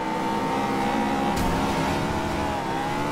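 A Honda S2000 VTEC engine revs hard and steady in Forza Horizon 2, a loud, continuous high-pitched drone close by that rises and holds throughout.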